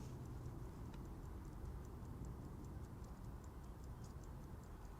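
A ship's clock, freshly oiled, ticks in a quick steady rhythm, faint and close against a low background hum, with no voices.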